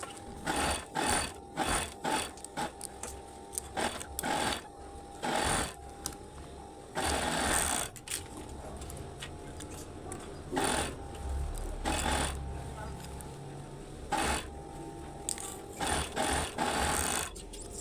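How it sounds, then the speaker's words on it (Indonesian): Overlock sewing machine finishing the edges of a trouser back pocket, running in bursts of rapid mechanical whirring separated by short pauses, close and fairly quiet. "Lanjut kita jahit kita obras bagian tepi-tepinya."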